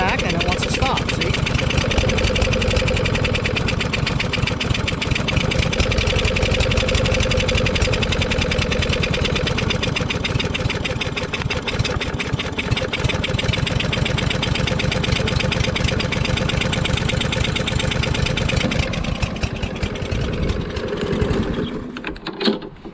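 A Craftsman push mower with a Briggs & Stratton 550EX overhead-valve engine runs steadily at a low idle with the throttle pulled back, a continuous close chugging drone that falters and dies away near the end.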